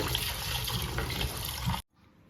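Fish pieces being washed in water in a home kitchen. Close, continuous sloshing and splashing runs steadily, then stops abruptly near the end with no talk.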